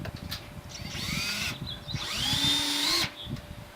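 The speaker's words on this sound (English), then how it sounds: "I have some 1-inch self-piercing screws that'll go into that starter hole" Power drill driving a 1-inch self-piercing screw into the side of a poly drum for a planter deck, with two rising whirring bursts that climb in pitch as the screw bites, close and loud, separated by a brief pause.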